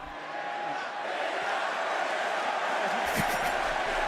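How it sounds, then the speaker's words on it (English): An arena crowd at the 2024 League of Legends Worlds esports event chants a T1 player's name, a dense, sustained roar filling the space with a louder swell near the end. "the whole crowd is chanting for Keria"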